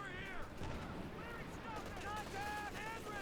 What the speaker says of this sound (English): 50 cal opening up here